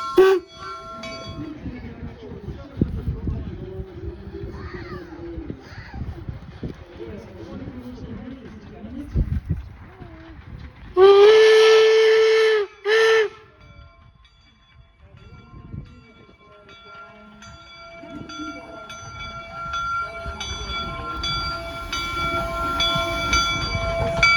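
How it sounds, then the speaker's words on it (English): A steam locomotive at Promontory Summit sounds a loud, steady whistle blast of about two seconds, followed by a second short toot as it stops, with crowd chatter and talk around it and a faint tone lingering after. "We get a warning whistle when it stops."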